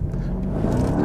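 A 2025 Porsche Panamera Turbo S E-Hybrid accelerating, its engine a steady low rumble that rises slightly in pitch over about a second, close and fairly loud with no talking.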